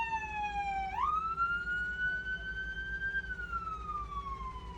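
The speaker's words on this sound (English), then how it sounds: "there was this fire engine and ambulance that was trying to make its way through" A wailing emergency siren sweeps in pitch, rising sharply then holding and falling slowly, from a fire engine and ambulance pushing through traffic on the M6 motorway, heard over steady road rumble from inside a BMW 320d Touring.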